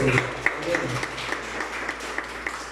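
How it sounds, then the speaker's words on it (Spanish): Congregation applauding brother Luis in church, a steady crowd clapping that carries on throughout, with voices mixed in underneath. "todos tienen que dar a nuestro hermano Luis un aplauso"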